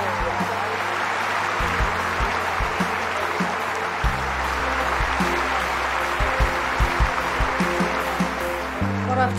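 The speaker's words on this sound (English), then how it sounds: "Let's give them both a round of applause" Sustained applause from a large crowd at an awards presentation, a dense steady wash of clapping that carries on for several seconds with a low hum and some voices underneath.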